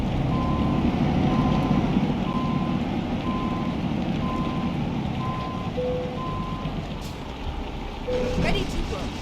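Truck reversing beeps in Euro Truck Simulator 2 with ProMods, a steady chain of evenly spaced electronic pips over rumbling engine and rain-like noise, ending in a short burst of higher tones.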